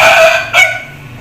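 A loud, close rooster crow, strained and raspy, cutting off abruptly after about a second.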